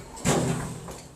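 Lift doors at a hotel in Manchester slide open with a sudden thud and a short rumbling rush that fades, followed by a faint second knock, close and without speech.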